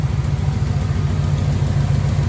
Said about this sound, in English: You still hear the exhaust a little tick